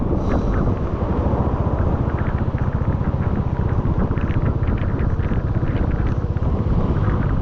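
Strong monsoon wind roars steadily at Tamhini Ghat during a ride, a loud, constant buffeting rush with low rumble across the clip and no voices.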